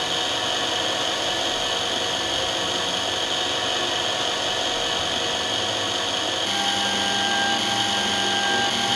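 A DM-200 lens drilling machine runs with a steady, close electric motor whine and a grinding hiss as it bores a hole through an eyeglass lens, continuing evenly throughout without talk.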